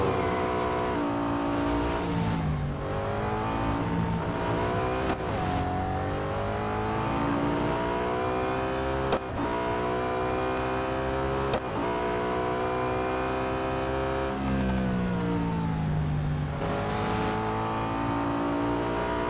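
Koenigsegg CC850 hypercar engine in a racing video game, revving hard through repeated upshifts with rising and falling pitch, a few sharp gear-change cuts, loud and close without talk.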